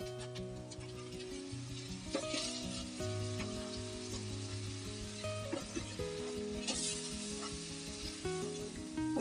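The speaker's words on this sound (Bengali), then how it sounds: "আমি একটু পানি দিয়ে দিচ্ছি এর মধ্যে আমি" Turmeric and chili powder sizzle in mustard oil in a pan as water goes in for a small-fish curry, giving a steady, close frying hiss with stirring scrapes and light clinks, while background music plays throughout.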